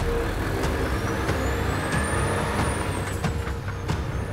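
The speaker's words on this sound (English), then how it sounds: "Start the truck" Volvo heavy truck pulling away during a fuel-economy driving challenge, a low steady diesel engine rumble with a rising whine and brief hissy bursts, continuous and close with no voices.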